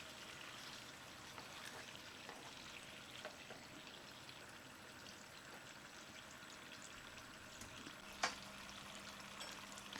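Quiet, steady sizzling of chital fish frying gently in a pan, soft and crackly throughout, with a brief clatter near the end.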